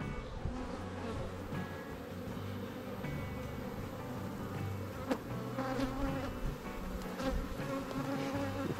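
A honeybee colony on a Buckfast hive frame hums in a dense, continuous buzz, close and fairly quiet, with a few brief clicks and no voices.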